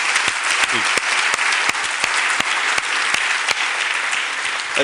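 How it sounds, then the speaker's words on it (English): A book-launch audience applauds two black Springbok authors, a steady, loud wash of many hands clapping with a few sharper claps standing out throughout. "Let's give them a round of applause"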